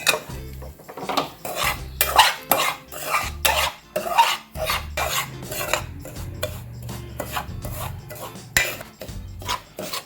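A utensil stirs and scrapes upma ingredients frying in a pan, making repeated rhythmic metallic scrapes and clinks up close with no speech.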